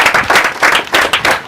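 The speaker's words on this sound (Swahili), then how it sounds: "Makofi tena jamani" Audience applause at a World Mental Health Awareness Day gathering in Kilifi County: a short run of dense hand clapping that swells and dips in several close, fairly loud bursts, with no voices over it.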